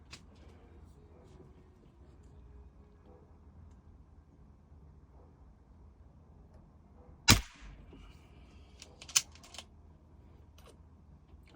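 A Reximex RPA .22 air pistol fired with no silencer gives one sharp, loud crack, followed shortly by a fainter snap, over quiet room background.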